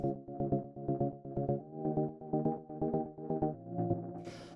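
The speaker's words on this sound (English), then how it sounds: "After that, we have this synth, which sounds like this." A warm, deep synth plays a sequence of chords, struck in short repeated stabs at an even pulse, quiet and alone with no voices.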